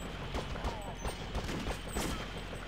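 Rapid bursts of gunfire from a zombie gunner firing from a helicopter in the game They Hunger, a string of sharp shots in uneven clusters at moderate distance, mixed with game noise.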